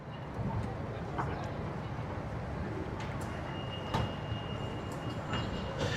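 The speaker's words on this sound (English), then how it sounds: "the trains on this train station stop on the upper floor" Train noise at a Lisbon station whose platforms sit on the upper floor, a steady rumble of rail cars with faint squeals and clatter, overlaid by people talking.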